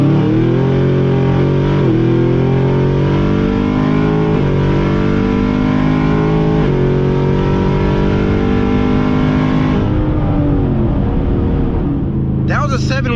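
Modded Chevrolet Camaro ZL1 accelerating hard on a drag test run, a loud engine roaring up through several gears with rising pitch and shift breaks, then easing off near the end.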